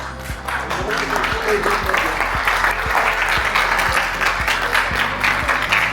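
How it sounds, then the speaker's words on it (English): An audience applauding an Audience Choice Award winner at a Buddhist convention, a loud, steady burst of many hands clapping over sustained music with regular low thumps, with talk mixed in. "Huge round of applause, everyone!"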